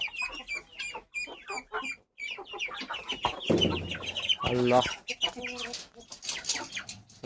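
Peruvidai chickens cluck and squawk nearby in a busy, uneven stream, with a person speaking briefly among them.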